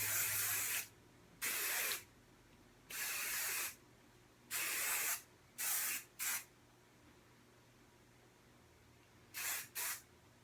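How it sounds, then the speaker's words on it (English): Aussie hairspray misted onto curled hair in short aerosol bursts, about eight of them, some single and some in quick pairs, with quiet gaps between. "The Aussie hairspray."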